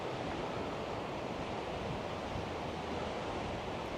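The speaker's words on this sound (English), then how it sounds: "Certainly windy up here." Steady roaring wind on high ground in Wales buffets the microphone throughout, a constant broadband rush with no pauses and no voices.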